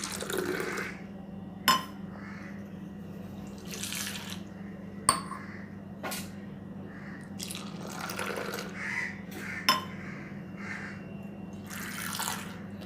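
Hot filter coffee and milk poured back and forth between vessels until frothy: soft intermittent splashing and pouring whooshes with occasional sharp metallic clinks, quiet and close over a low hum.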